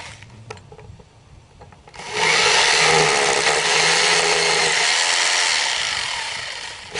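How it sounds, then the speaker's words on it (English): Power drill boring a bolt hole for an Interfab G-Force pool slide anchor: a steady, loud grinding whine that starts abruptly and holds for several seconds before tapering, close by, after a few faint clicks. "and then just go ahead and drill the hole."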